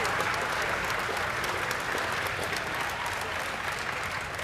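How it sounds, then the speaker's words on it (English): Spectators at an indoor youth female archery tournament final give a sustained round of applause, a dense even wash of clapping heard at moderate distance without talk. "Big round of applause for those girls"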